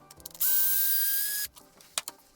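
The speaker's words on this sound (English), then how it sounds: "So those 2 screws out, these 2 screws off of the front." A power driver unscrews screws from the hinge pin block of a Kraton XL RC car, giving one steady whirring burst of about a second, close and loud, with small clicks and taps of handling before and after.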